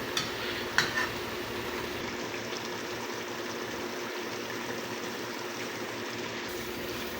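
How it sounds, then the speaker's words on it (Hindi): Chicken korma masala being stir-fried in a pot, a continuous close sizzle with soft stirring and scraping sounds running throughout, no talking. "अब इसको हम माशाअल्लाह अल्हम्दुलिल्लाह 5 मिनट के लिए भुनाई करेंगे अच्छे से"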